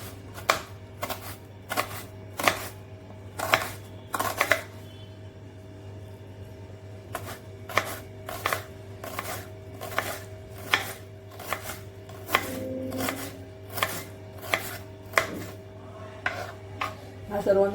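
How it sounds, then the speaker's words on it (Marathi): A knife chops onion finely on a board in quick bursts of crisp, rhythmic taps, with short pauses between runs, close and clear without talk. "हा सर्व मी आता कांदा चिरून घेते."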